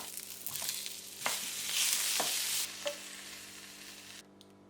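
Paprika and chili chicken frying in a pan gives a close, steady sizzle with a few stirring clicks. The hiss swells in the middle and drops away at the end, with no voices.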